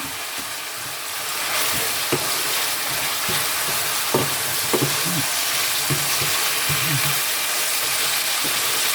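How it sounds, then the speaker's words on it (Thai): Continuous loud sizzle of stir-frying with fermented soybean paste (tao jiao) and mushrooms, with scraping stirs and small clanks of the utensil against the pan throughout. "เราผัดกันอยู่เนาะ ใส่เต้าเจี้ยวไปเลย"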